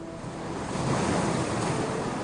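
Sea waves rolling onto the shoreline below the lower tier of Pilate's seaside palace, a broad, swelling wash of surf with wind buffeting the microphone, loud and continuous.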